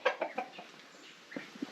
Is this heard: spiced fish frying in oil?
no